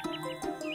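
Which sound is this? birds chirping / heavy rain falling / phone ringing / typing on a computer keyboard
birds chirping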